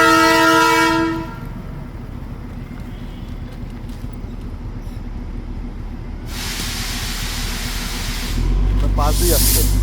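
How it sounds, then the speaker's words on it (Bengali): The Darjeeling toy train in Siliguri passes right alongside, opening with a loud horn blast, then a long steady rumble and hiss of the train rolling close by, with a brief voice near the end. "আমরা এখানে দাঁড়িয়ে দাঁড়িয়ে আবার শিলিগুড়িতে আমরা টয় ট্রেন দেখতে পাই"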